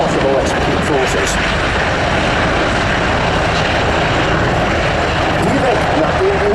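Loud, continuous rotor and engine drone of low-flying German military helicopters, H145M, NH90 and Tiger, steady throughout, with a voice talking over the noise.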